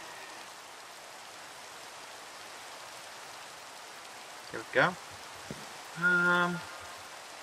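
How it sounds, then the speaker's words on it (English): Steady rain from The Sims video game hisses evenly throughout as a soft background wash, while a person briefly speaks over it near the end. "I can't stop the rain now."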